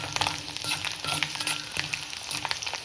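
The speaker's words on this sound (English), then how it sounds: "Let this also fry for a minute." Mustard, cumin and fennel seeds fry in hot oil in a pan with a close, busy crackle and rapid popping, broken by a few soft scraping stirs.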